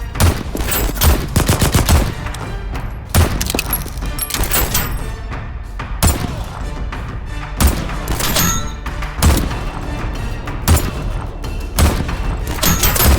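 Video game Voidtrain gunfire: loud, close shots and thumping booms fired in irregular bursts, some single reports and some quick volleys, with no talking.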